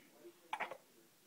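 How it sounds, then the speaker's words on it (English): A baby gives a quick faint hiccup, a short clustered burst of small vocal catches in a quiet room, with no other talk. "Oh, you got the hiccups."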